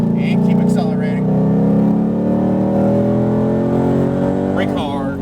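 Mustang Shelby GT500 accelerating on a race track, a loud engine drone climbing steadily in pitch, heard from inside the car while a person talks over it.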